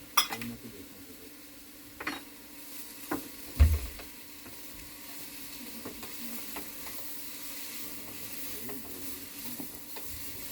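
Mixed vegetables with green, yellow and red bell peppers and turmeric powder roasting in a pan, a soft steady sizzle with a few clinks and stirring knocks near the start, and someone speaking over it.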